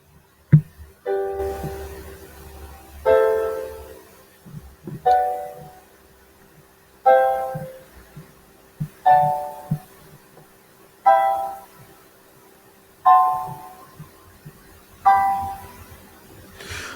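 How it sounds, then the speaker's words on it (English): Chords built on each step of a scale play one after another in a steady sequence, about eight separate chords, each struck and left to ring and decay before the next, clear and close. "There's a chord based on every step of the scale"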